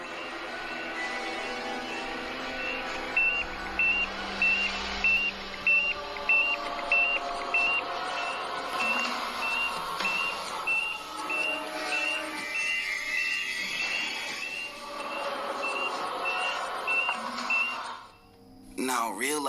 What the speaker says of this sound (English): Guyver is equipped with an oxygen meter, which starts to sound off an alarm, warning him that the oxygen levels have dropped dangerously low